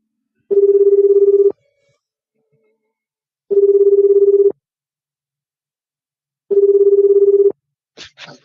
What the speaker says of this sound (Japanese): 今から電話してみますので